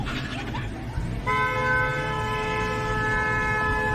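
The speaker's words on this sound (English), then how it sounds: "honking that horn, coming in hot" Car horn blaring in one long, loud, steady honk that begins partway through and holds to the end, over traffic noise and a voice.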